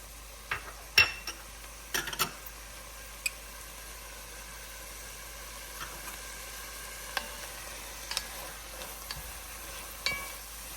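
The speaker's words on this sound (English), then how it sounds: "Now this needs to saute and simmer for a good 3-4 minutes." Lamb curry with turmeric and garam masala sautéing in a pot, with a faint low sizzle under scattered spoon scrapes and metallic clinks against the pan at irregular intervals.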